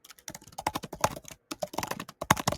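Quick bursts of clacking keystrokes on a computer keyboard, close and crisp, with short pauses between runs of typing and no voices.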